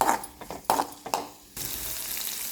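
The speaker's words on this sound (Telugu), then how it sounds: "ఒక గరిట ఆయిల్ వేసి చాప్ చేసుకున్న ఒక సిక్స్ పచ్చిమిర్చి వేసి ఫ్రై చేయాలి" Chopped green chillies frying in a ladleful of oil in a pan, a steady close sizzle that starts abruptly partway through after a few clattering knocks of utensils against the pan.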